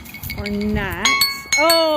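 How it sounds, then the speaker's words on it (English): A bright electronic alarm chime rings out in two rising, bell-like tone bursts, clear and near, while a person briefly talks over the start. "that's my alarm"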